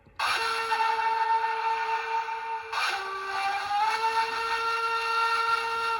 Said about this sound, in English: And that is considered the long whistle.